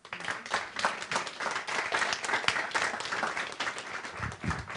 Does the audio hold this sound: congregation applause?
yes